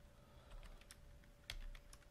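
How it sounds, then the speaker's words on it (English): Quiet keystrokes on a computer keyboard entering a command on a Cisco router, a short irregular run of soft clicks with one sharper tap, close but faint against a low electrical hum. "the first thing we're going to do is type in config"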